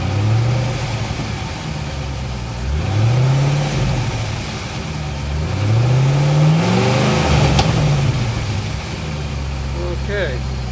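A nearby Corvette Z06 with stock exhaust idles with a deep rumble, then revs up several times in rising and falling sweeps, loud and steady throughout.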